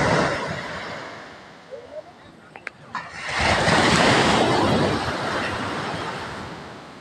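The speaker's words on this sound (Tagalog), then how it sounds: "Lakas ng alon." Broad roaring surf fills the clip, a heavy wave surge building loudly midway and rushing on, with wind buffeting the microphone and a few brief knocks.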